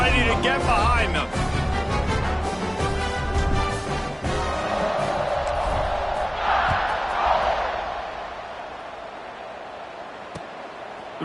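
A big football stadium crowd at the Alabama–Auburn Iron Bowl roars before kickoff, a loud sustained wash of cheering that peaks midway and then eases, with a thump near the start and a sharp click toward the end.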